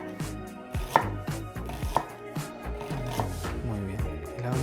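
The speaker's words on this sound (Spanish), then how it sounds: "cortamos un poquitito, primero a lo largo y finalmente en una brunoise lo más finita posible." A knife chops a peeled onion into a very fine brunoise on a board: a quick, uneven series of close, crisp taps and thuds with short pauses between bursts.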